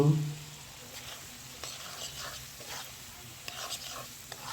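Prawns and spices frying in a pan for a spicy prawn bhuna, a steady soft sizzle with occasional stirring scrapes, close and fairly quiet.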